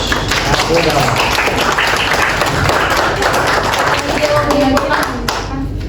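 Students in a classroom clap after a presentation, a dense continuous applause that stays loud throughout, with voices talking over it.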